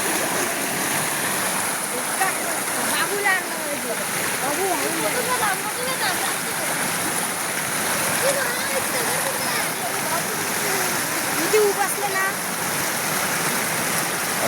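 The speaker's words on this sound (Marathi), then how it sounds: "खळ पाणी आहे, खळ पाणी." A rain-swollen village stream flows in a steady, continuous rush close by, while someone talks over the water throughout.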